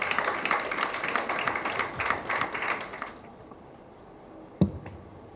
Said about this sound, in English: Please let's welcome him with a round of applause.